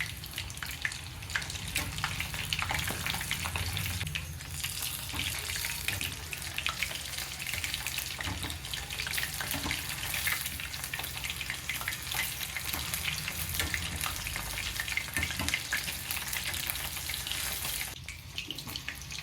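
Chicken pops deep frying in hot oil until golden brown, a steady, dense crackling sizzle with scattered pops that runs loud and even throughout, close up, with no talking.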